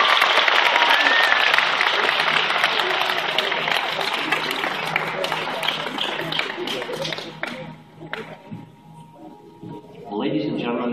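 Crowd at an after-prom hypnosis show applauding loudly and steadily, the clapping thinning and fading out toward the end as a voice begins speaking.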